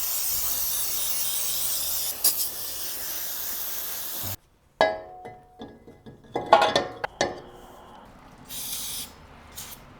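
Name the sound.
brake cleaner being sprayed on a brake rotor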